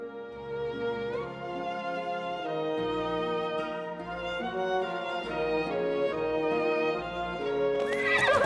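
Horses neigh and whinny in the video game Masquerada: Songs and Shadows, with several loud drawn-out calls over a dense, steady backdrop of game music and ambience.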